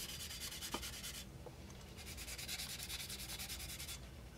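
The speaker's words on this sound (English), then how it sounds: "we're just going to go over the entire body" A plastic 1:24 Tamiya Nissan Silvia model car body is scuffed with sandpaper, soft close rhythmic rubbing strokes, quiet and alone.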